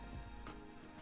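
Rain from a storm in Minecraft with the Minecolonies mod patters softly and steadily for about a second, faint and alone.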